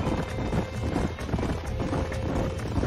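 Several horses in the Red Dead Redemption video game trot along with a steady, close clip-clop of hooves. The rhythm runs unbroken under a faint ambient background.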